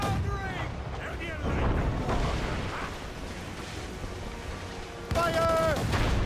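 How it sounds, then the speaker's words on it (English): Ship-launched mortar fire in Assassin's Creed Rogue: two heavy booming blasts, the second louder, over a rumbling battle backdrop with voices speaking between them. "We should fire our mortars, Captain!"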